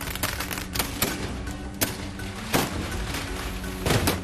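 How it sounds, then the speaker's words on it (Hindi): Gunfire and cannon blasts at a midnight gunpowder Holi celebration in Menar village near Udaipur, a series of sharp cracks and booms scattered irregularly over a steady crowded din. "बंदूकों की फायरिंग की आवाजें"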